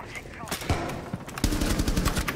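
Rapid gunfire in a Rainbow Six Siege match, a series of loud sharp blasts, some in quick bursts, under and between players talking over voice chat.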